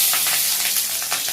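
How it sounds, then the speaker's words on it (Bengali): Chopped onion and cumin seeds frying in hot oil in a Bangladeshi village kitchen, a close, loud, steady sizzle with faint pulsing stir-like swells and no voices. "তারপর ভাজি করি।"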